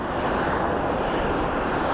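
A Cirrus jet passes at an airport, giving a steady, loud broadband engine roar and rush of air with no break, heard nearby while plane spotting.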